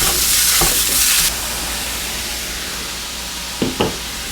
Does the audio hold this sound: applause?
no